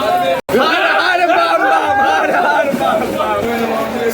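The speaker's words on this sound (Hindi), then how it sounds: "काफी भीड़ है मेला में" A thick babble of many voices fills the busy Rajgir Malmas fair crowd, with one voice talking nearby and a brief cut near the start.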